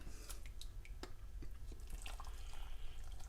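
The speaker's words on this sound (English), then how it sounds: "You pour it in the jar." Hot water poured into a jar at close range: quiet, scattered splashes and drips over a low background hum, with no one speaking.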